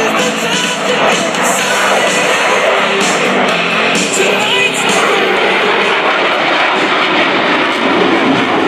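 Boeing F/A-18E Super Hornet jet engines roar with afterburner at the Melbourne Air & Space Show, a loud, dense, continuous blast that stays close and dominant with faint crowd noise beneath.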